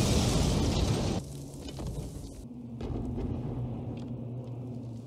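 Bombing explosions from the Band of Brothers Bastogne episode sound as a loud, broad roar that rolls into a deep, sustained rumble. A low hum runs beneath it.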